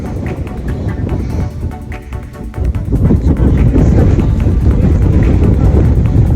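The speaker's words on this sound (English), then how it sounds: "The wind's pretty strong up here." Strong wind buffets the microphone on an exposed hilltop above South Stack near Holyhead, a loud continuous low roar that swells and gusts, growing heavier in the second half.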